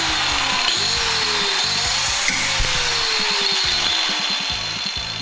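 A guardless angle grinder fitted with a cutting wheel spins at about 13,000 RPM, giving a loud, steady, close-up high whine with a harsh rattling buzz that holds throughout.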